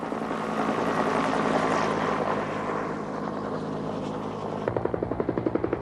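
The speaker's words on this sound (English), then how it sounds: "Each helicopter carries a huge bucket holding 250 gallons of water." A firefighting helicopter carrying a water bucket drones loudly overhead, its engine roar sweeping past, then rotor blades chop in a rapid, steady rhythm near the end.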